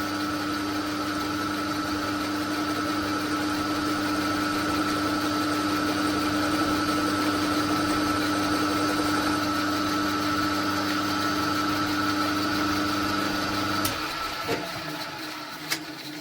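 A metal lathe turns a brass bar to remove scale and slag from it, giving a steady motor hum with cutting noise layered over it, close and constant, until it winds down near the end.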